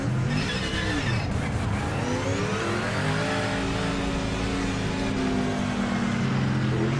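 Racing car engine in Project Motor Racing revs hard and climbs through the gears, a loud, close, continuous roar with rising and falling pitch sweeps and no talk.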